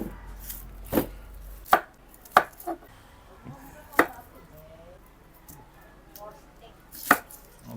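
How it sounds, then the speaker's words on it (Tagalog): Sharp knife chops through a large batch of onions on a board, with separate, irregularly spaced thwacks standing out close and clear against quiet surroundings. "So, ang una natin gagawin, maghihiwa tayo ng maraming sibuyas."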